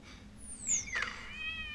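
A cartoon cat in the Toca Boca video game gives a short, high rising and falling meow over a faint background hum, clear but quiet and alone.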